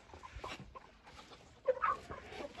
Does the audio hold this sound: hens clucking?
yes